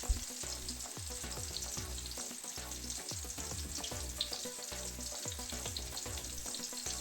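Eggplant omelet frying in heated oil in a pan, a faint, continuous crackling sizzle with soft rhythmic stirring or scraping taps repeating throughout.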